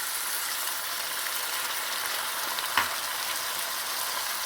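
Chicken pieces and onions fry steadily in a pan, a constant hissing sizzle that stays even throughout, with one brief clink near the end.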